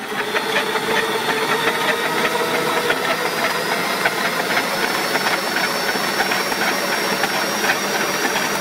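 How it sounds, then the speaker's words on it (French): A dough kneading machine churns panettone dough, a steady mechanical whir and rumble with a continuous hiss and faint rhythmic knocking that holds at an even, loud level from start to finish. "je vais laisser tourner encore 1 minute et je vais arrêter mon pétrin"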